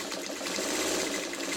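Sewing machine back stitching a quilt, a continuous close whirring hum with a fine rapid texture and no pause.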